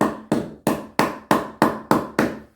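A hammer end, or glass breaker, on a Condor Pandur fighting knife strikes a piece of wood eight times in a steady rhythm, each sharp, loud knock fading before the next, with no talk.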